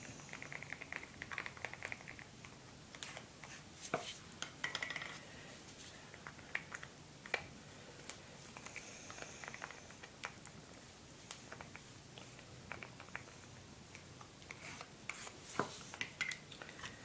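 Mica pigment powder is stirred into resin with a quiet, continuous scraping and rubbing sound broken by small ticks and taps. It is close but faint, with no talking.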